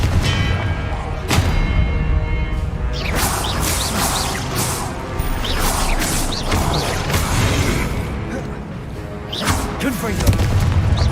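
Fiery Confringo blast spells in Hogwarts Legacy, a string of booming impacts and crashes with whooshing bursts over a busy combat soundscape, several hits spread across the clip.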